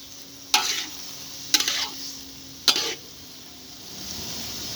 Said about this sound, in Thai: เดี๋ยวล่อให้หมูเดือดก่อนนะจ้า น้ำเริ่มลดลงแล้วนะจ้า